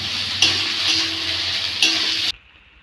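Potatoes with onion sizzle loudly in a frying pan for a long-bean and potato fry, with a steady crackling hiss and a few sharp stirring scrapes of the spatula, close by, before the sound cuts off near the end.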